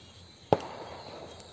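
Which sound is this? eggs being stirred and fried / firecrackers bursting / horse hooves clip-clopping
firecrackers bursting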